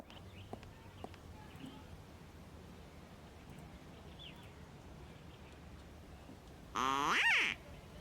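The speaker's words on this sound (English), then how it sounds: "Ducks? It's a cool noise" A brief burst of duck quacking sounds effect in the point-and-click adventure game Secret Files: Puritas Cordis, one loud, bright cluster of quacks rising suddenly out of quiet background ambience near the end.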